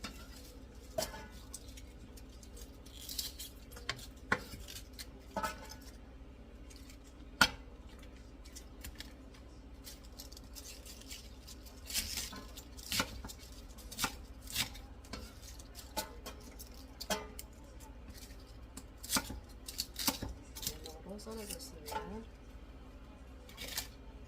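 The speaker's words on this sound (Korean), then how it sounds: "썰, 썰어서 네모로 한 번에 찍어서 드시기 좋게" A knife chops vegetables into squares for pickles on a cutting board, giving sparse, irregular sharp taps and clicks at a modest level with quiet gaps between cuts.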